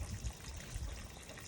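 Water trickles slowly from a pipe during a severe dry spell, a soft, steady low splashing and gurgle with no voices, close and fairly quiet throughout.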